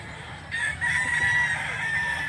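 A rooster crows in one long, loud, drawn-out call, with faint background noise before it begins.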